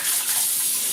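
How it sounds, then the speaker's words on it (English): A tap runs with cold water as hands are washed beneath it, producing a steady close hiss and splash that stays loud throughout the moment. "Gotta wash these hands."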